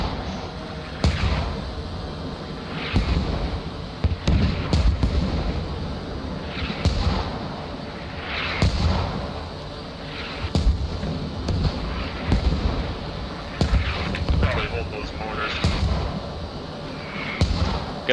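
Mortar fire in a combat video game, heard as a series of heavy booming thuds and blasts scattered across a noisy battlefield background.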